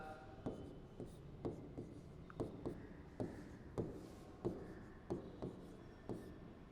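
Chalk or marker strokes on a board during a physical chemistry lecture on the kinetic theory of gases, about a dozen short rhythmic scratching taps spaced roughly half a second apart, close and moderately quiet, with no talk.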